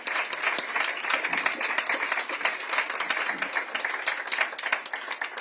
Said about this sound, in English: please give them a round of applause for their bravery for being here